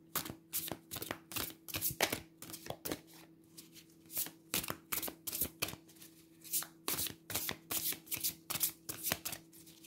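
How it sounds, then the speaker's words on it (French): Playing cards, including oracle cards, being handled, shuffled and laid down on a table in a quick, uneven run of crisp close flicks and slaps, with a faint steady hum underneath. "on rajoute une carte de l'oracle de l'absolu"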